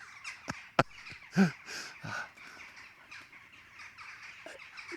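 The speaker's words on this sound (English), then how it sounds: "Lots of birds are now coming in, very close now to landing in above me." Jackdaws, members of the crow family, caw in a handful of sharp, separate calls as they come in to land close overhead, with louder bursts near the start and fainter calls trailing off against a quiet outdoor background.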